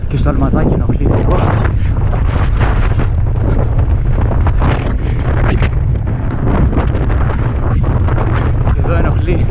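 Strong wind buffets the microphone in loud, continuous gusts, roaring and rumbling throughout with someone speaking underneath, during a PS2 game session of Chamois EGS 2022.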